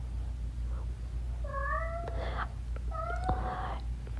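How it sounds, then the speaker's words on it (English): A house cat named Clancy meows twice in drawn-out, rising-and-falling cries, close and fairly loud over a steady low hum, with a short quieter sound before the first call. "I do not know what he's meowing at"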